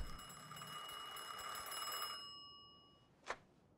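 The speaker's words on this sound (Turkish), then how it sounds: "Telefona cevap veririm." Telephone ringing in the Mafia 2 video game, a bright bell-like ring sustained for about two seconds then stopping, followed by a short sharp click or tone near the end, with no talk.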